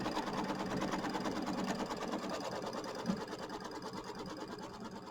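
Sewing machine stitching a tack-down line on quilt fabric for a Kimberbell mini quilt, a steady, continuous motor whir with a rapid needle chatter running close and loud without pause.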